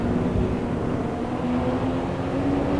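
Engine drone from a Porsche 987 Boxster mod in a racing video game at the Hermanos Rodriguez circuit, a steady low hum with rising and falling tonal whine, continuous and fairly loud.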